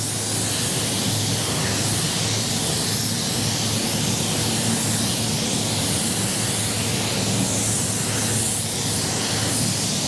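Spray gun applying base coat paint to a car, a loud continuous hiss of atomized paint, steady and unbroken, with no talking.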